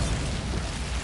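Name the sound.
Bombarda spell explosion in the video game Hogwarts Legacy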